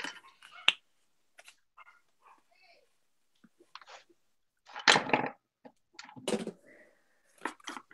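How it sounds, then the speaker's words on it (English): Dogs bark and yelp in short scattered bursts, some louder and nearer, separated by quiet gaps, with a few faint snaps and rustles in between. "Dogs."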